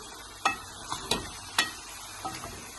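Spinach chicken curry being stirred in a pot, a few sharp spoon-on-pot knocks and scrapes spaced irregularly over a low steady simmer, close and without any talking.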